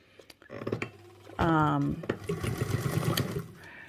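A sewing machine top-stitches fabric in one short, loud burst of rapid stitching, set between softer handling clatter and quiet sounds from the room.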